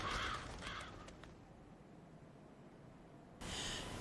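Ordinary crows cawing in Bloodborne, a few rough caws at the start and another burst at the end, faint, with quiet ambience between.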